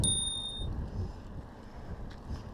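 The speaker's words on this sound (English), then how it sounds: "added a little spur cycle bell over here" A Spurcycle bell on a Cannondale Habit HT 2 hardtail mountain bike rings once with a bright, clear ding that rings on briefly and fades within a second, over low wind rumble outdoors.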